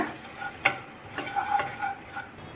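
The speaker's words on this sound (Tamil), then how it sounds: "மிளகாத்தூள் மல்லித்தூள் ஜீரகத்தூள் மஞ்சள் தூள் அதெல்லாம் ஆட் பண்ணி நல்லா இந்த வெண்ணெயில் ஃப்ரை பண்ணிக்கோங்க" Chili, coriander, cumin and turmeric powders fry in butter for palak paneer, a soft crackling sizzle broken by a few brisk stirring scrapes, brief and close.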